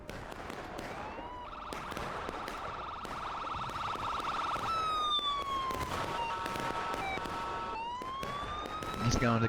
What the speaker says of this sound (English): Or perhaps that's an ambulance noise,